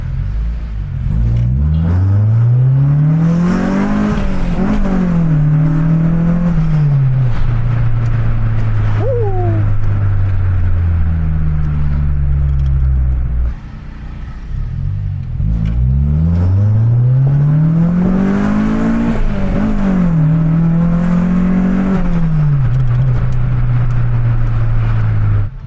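A Honda B18B non-VTEC engine is revved twice, each pull rising in pitch and then falling back. The engine is loud and close, and a brief high squeal is heard between the pulls.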